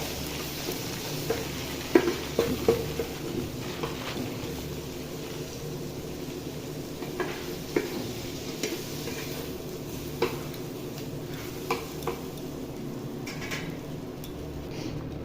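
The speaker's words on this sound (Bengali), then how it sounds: "ভেজে নেবো বেগুনটাকে ভালো করে" Low, steady sizzle of salted, turmeric-dusted eggplant frying in a pan with scattered scraping and tapping of a utensil stirring, fairly quiet and continuous.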